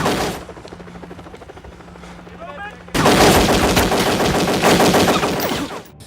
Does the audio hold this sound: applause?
no